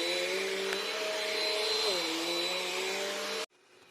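Bissell vacuum cleaner running steadily on carpet, a loud continuous motor drone with a slight pitch dip partway through, then cutting off abruptly near the end.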